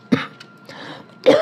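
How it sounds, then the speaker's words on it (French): A woman recovering from flu gives a short cough, then a quieter throat sound, and finally a louder, harsher cough, all close to the microphone in a quiet room. "je tousse un peu"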